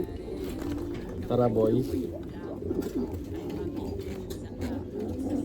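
Racing pigeons coo in low, repeated throaty phrases close by, with a louder burst early on, while someone speaks over them.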